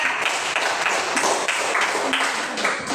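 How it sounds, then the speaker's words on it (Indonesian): A classroom of students claps for a classmate, steady rapid applause from many hands lasting the full few seconds at moderate level. "Kita berikan tepuk tangan untuk Aisyah."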